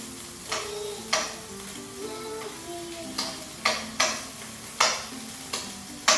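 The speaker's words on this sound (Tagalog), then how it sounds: "Sunod na natin itong ating frozen na sibuyas. Ayan. Ay, tumatalsik." Frozen onions frying in a pan at home, sizzling steadily with sharp bursts of spattering that pop out every second or so, close and fairly loud.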